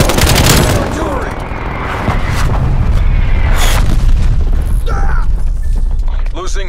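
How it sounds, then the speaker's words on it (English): Artillery explodes in Call of Duty: Black Ops Cold War multiplayer as deep booms and dense rumbling blasts, very loud and continuous, mixed with mechanical clatter and other battle noise. "Hostile artillery targeting active."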